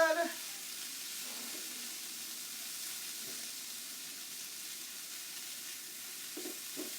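Vegetables and corn sizzle in a stir-fry pan for a Southwestern stir-fry, a steady soft crackling hiss throughout with faint occasional clinks, quiet and even.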